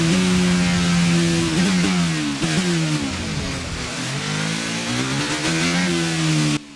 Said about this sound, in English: we have retired with an engine failure in the final round of the Grand Prix